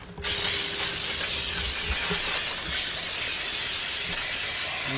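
Carburetor cleaner sprays onto rebuilt crankshaft parts from a 2006 Kia Sportage 2.7 engine set on a pan, making one continuous, close, forceful hiss that begins abruptly and never stops.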